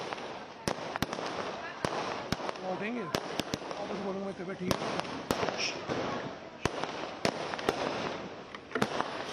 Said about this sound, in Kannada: ಮನೆಯ ಎದುರುಗಡೆ ಪಟಾಕಿಯನ್ನು ಸಿಡಿಸಿ ಎಲ್ಲರೂ ಕೂಡ ಸಂಭ್ರಮಿಸಿದ್ದಾರೆ